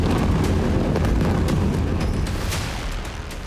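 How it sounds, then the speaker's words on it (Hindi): A deep, heavy rumbling roar of a building being blown up in a city in Gaza, sustained and broadband, slowly fading over a few seconds with faint crackles on top. "ये शहर में एक इमारत को उड़ा देने की तस्वीर है।"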